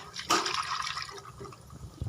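A liquid mixture is poured into cooking masala for kadhi chawal, opening with a quick splash and trailing off into a quieter trickle, faint and close.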